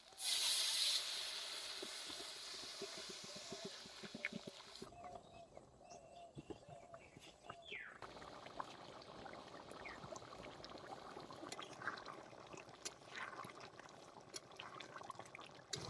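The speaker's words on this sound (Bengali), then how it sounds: "এখন পরিমাণ মতো ঝোলের জন্য জল দিয়ে দেবো" Water hits a hot pan of chicken curry cooked with chickpeas in a loud hissing burst, then settles into quieter bubbling and crackling, with a few clinks of a utensil.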